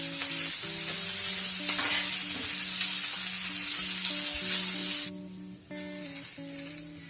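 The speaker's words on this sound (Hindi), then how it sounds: "और इसे एक के बाद एक डालकर आपको एक साथ ही रोस्ट कर लेना है।" Tomatoes roast in a hot pan for an egg curry, giving a steady, loud sizzling hiss that fills the clip under background music, dipping briefly near the end before resuming.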